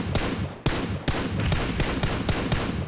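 Explosions and gunfire in the mobile battle royale PUBG Mobile: a rapid series of sharp, loud blasts at irregular intervals, some close and heavy, others sharp cracks, crowding the whole stretch with no talking.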